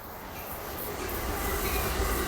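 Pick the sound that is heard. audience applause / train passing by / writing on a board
train passing by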